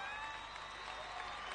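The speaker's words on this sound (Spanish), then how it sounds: "Fuerte el aplauso para este" Steady applause from a crowd at a singing contest show, honoring a chamamé singer, dense and continuous throughout with a faint cheer mixed in.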